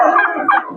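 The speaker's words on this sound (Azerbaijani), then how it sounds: "Maşallah olsun iri hinduşkalardır, qəşəng." Turkeys gobble in a brief, loud, close burst of warbling calls at a busy poultry market in Sabunçu.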